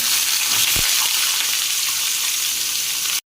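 Chopped pumpkin drops into hot oil already spiced with panch phoron and dried red chilies, giving a soft thump and then a steady, close, hissing sizzle that cuts off abruptly. No voices are heard.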